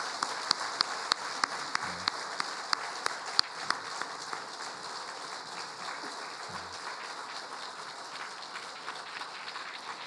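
A church congregation applauds during a Sunday worship service, the clapping fairly soft and steady for about ten seconds, with a few sharper individual claps standing out early on.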